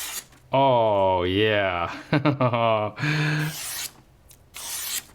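A knife blade drawn across sandpaper for sharpening, giving several harsh rasping strokes between stretches of a voice exclaiming and speaking, all close and fairly loud.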